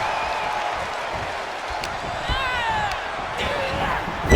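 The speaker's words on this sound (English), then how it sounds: "Taking a moment to get pumped off of this crowd's incredible energy." A crowd roars steadily in the WWE 2K24 wrestling video game, a dense wash of cheering and whistles with occasional thuds, under a commentator's voice.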